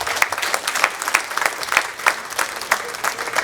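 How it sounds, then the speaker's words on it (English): Audience applause at a celebration-of-life gathering, a steady burst of many hands clapping at close range, alone without talk. "Please give her a round of applause."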